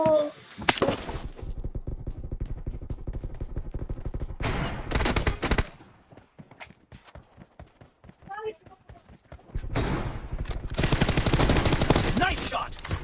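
Rapid bursts of M416 assault rifle fire in a PUBG team deathmatch, loud and close, come in several sustained volleys separated by quieter gaps of footsteps and single shots.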